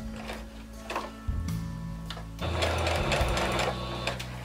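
A sewing machine stitches a pocket onto doll clothes in quick close bursts of rapid mechanical whirring and ticking, pausing briefly between runs, the last run longer and louder.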